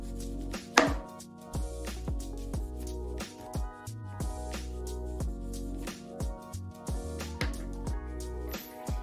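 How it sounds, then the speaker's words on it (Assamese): A knife cuts a small piece of lemon on a kitchen board while making homemade strawberry jam. Quick, close chopping taps repeat steadily over a continuous musical backdrop. "লগতে মই সৰুকৈ নেমুৰ টুকুৰা এটা কাটি ল'লোঁ।"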